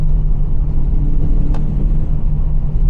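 A supercharged Volkswagen Golf 2 GTI G60 engine idles with a steady low rumble and hum, close and loud, with one faint click in the middle.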